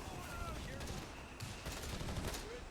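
Distant, dense gunfire crackles continuously on a Company of Heroes 3 battlefield, a steady rolling fusillade of small-arms shots beneath faint background voices.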